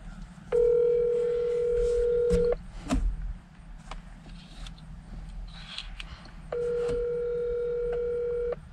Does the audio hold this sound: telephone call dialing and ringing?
yes